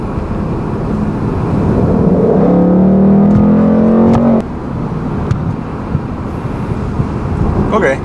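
A 2018 Ford Mustang GT automatic accelerates hard on a test drive, its V8 engine rising in a loud, steady climbing drone for several seconds before cutting off abruptly, followed by quieter road noise and faint clicks.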